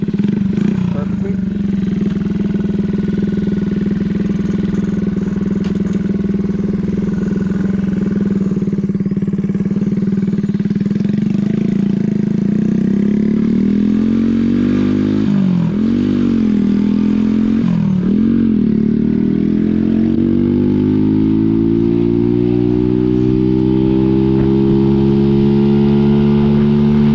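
A Skyteam PBR, a small motorcycle, idles steadily and then rides on with a loud engine whose pitch rises and falls through gear changes, close and continuous throughout.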